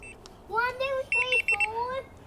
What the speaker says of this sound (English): So you hold that for a couple seconds and it beeps to acknowledge.